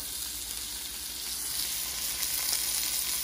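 Food sears in melted ghee in a pan, giving a steady, close hiss of sizzling fat that builds slightly louder toward the end, with no voices over it.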